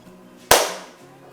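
An FX Impact air rifle fires a single sharp shot, a loud close crack whose tail decays over about half a second, with a quiet room and faint hum before and after.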